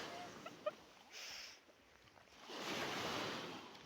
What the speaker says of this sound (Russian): Все, волны начались сильные.